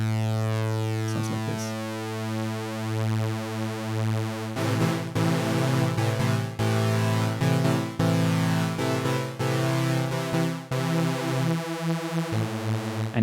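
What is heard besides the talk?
Audiothingies MicroMonsta synthesizer super saw wave with wave shaping turned up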